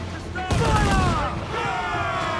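A ship's broadside in Assassin's Creed 4 Black Flag fires as a single thunderous, ragged volley of cannon shots. Shouting crew voices carry through it and linger afterward over the ambient roar of the sea battle.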